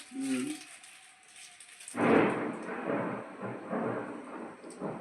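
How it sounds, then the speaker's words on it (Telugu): A low rumble of thunder rolls in after a brief quiet start, sustained and broad, with a soft patter like rain beneath it. "ఉరుముతుంది"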